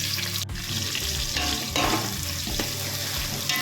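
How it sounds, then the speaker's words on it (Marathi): Onion frying in hot oil in a pot for a village-style mixed vegetable pulao, a dense, continuous sizzle up close, with occasional stirring bursts and no voices. "कांदा टाकले, त्यात कांदा छान फ्राय करून घ्यायचा आहे आपल्याला."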